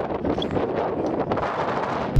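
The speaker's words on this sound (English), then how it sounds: "I can't even explain to you how cold and windy it is, like Sean's sat over here, being a pussoir." Strong, cold wind gusts in Barcelona and buffets the microphone in a steady, loud, roaring rumble that swells slightly and never drops away, with no voices.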